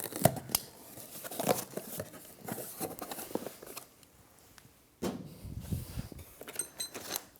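A knife or scissors slices through tape on a cardboard box holding an Allegro 2 Reformer leg kit, giving irregular tearing and ripping strokes with crinkling and rustling, close and moderately loud, with a brief pause before a fresh burst of cutting.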